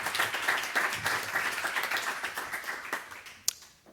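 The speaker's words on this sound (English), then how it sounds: "Please give him as well a warm welcome applause." Welcoming applause for a speaker at an artists' books seminar, a modest group clapping in uneven bursts, a few distinct hand claps standing out before it tapers off and fades near the end.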